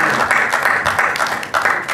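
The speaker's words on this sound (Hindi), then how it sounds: "उनके लिए तालियां।" At a 2023 Urdu poetry mushaira, a crowd gives a loud, close burst of applause, thick and continuous, with a slight dip before it swells again.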